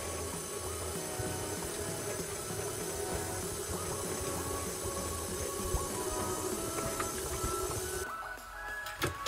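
A stand mixer kneads pizza dough made with olive oil and water, a steady mechanical whir with rhythmic churning that cuts off abruptly near the end.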